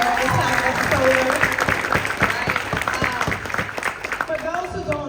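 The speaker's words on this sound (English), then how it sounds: "We can clap it up for solar." A keynote audience at a company conference applauds, a close, loud burst of clapping with sharp individual claps standing out, fading a little toward the end as a few voices and cheers sit under it.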